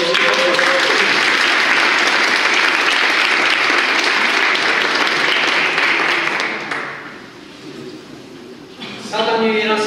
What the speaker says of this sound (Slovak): Obrovský potlesk.